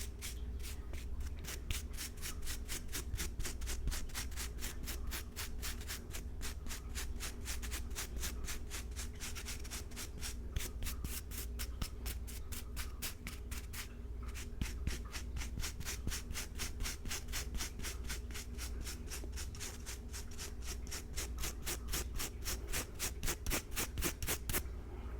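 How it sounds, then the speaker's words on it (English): Steady close binaural scraping and rubbing on a surface, a dense run of quick, even strokes like sanding or brushing that carries on without pause, soft and intimate with no talking. "Scraping a lot of this junk off of you."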